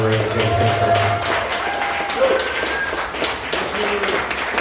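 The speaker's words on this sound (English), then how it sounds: "let's give them a big round of applause" An audience at a festival gathering applauds, a sustained wash of clapping that holds steady for several seconds, with a voice speaking over it at the start.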